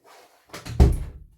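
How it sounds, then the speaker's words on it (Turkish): A bookcase door being shut: a faint rustle, then a quick pair of knocks leading into a solid thump as it closes, close by and brief. "Kapıyı örtüm ses yapıyordu."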